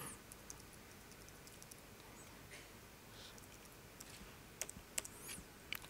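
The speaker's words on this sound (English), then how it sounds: "it's hard to type on a laptop for me" Keys on a small laptop keyboard are tapped faintly in a quiet room, scattered soft clicks that grow into a few sharper presses toward the end.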